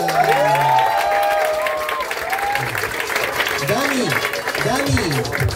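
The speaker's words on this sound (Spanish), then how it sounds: "Fuerte aplauso para Dani" Audience applause at the grand final of an improv competition, a dense steady wash of clapping and cheering that fills the whole stretch, with voices carrying over it.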